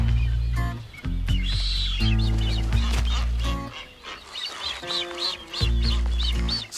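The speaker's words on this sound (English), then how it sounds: "This cactus-covered rock has a thriving social scene of blue-footed boobies." A colony of blue-footed boobies on a remote cactus-covered island in the Gulf of California calls out: overlapping honking and whistling cries, several birds at once, fairly close and dense, with no talk.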